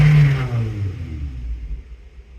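A car engine with an unmetered air leak revs briefly as the throttle opens, a loud burst that quickly falls away into a fading rumble.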